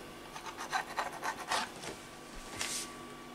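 A knife rasps and scrapes through marinated eggplant on a board, halving and cubing it, several quick strokes in a row followed by a final slice, close up and fairly quiet.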